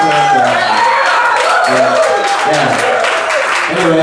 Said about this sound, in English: let's give a big round of applause for this first band